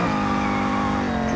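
Chevrolet Camaro GT4.R racing in Real Racing 3 slides into a brief fishtail, a steady loud engine drone layered with a sustained tyre squeal and skid noise for just over a second.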